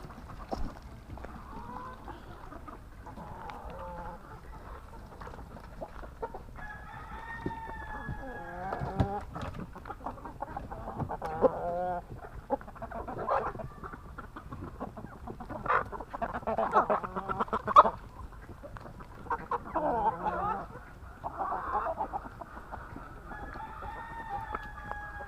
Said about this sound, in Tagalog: Yung mga manok dito.